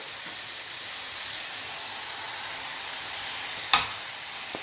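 Minced meat frying in a pan for Turkish gözleme filling, a steady loud sizzle with a sharp scrape of stirring near the end.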